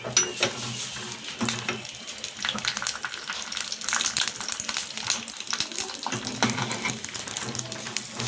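Cashews and raisins fry in ghee for sweet pongal, giving a steady close sizzle with scattered crackles and pops that continue throughout without any talking.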